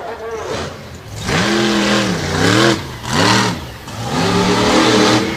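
The Big Bad Brutus monster truck revs hard at a freestyle championship event, its engine surging and falling in repeated loud waves up close, with the pitch climbing and dropping on each burst.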